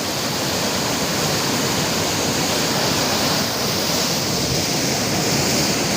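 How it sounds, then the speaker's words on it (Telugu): A small village waterfall in Araku roars steadily nearby, a loud, constant rush of water that fills the whole scene without pause. "ఎంత ఫోర్స్గా అంటే వేగంగా వస్తుందో వాటర్ మాత్రం"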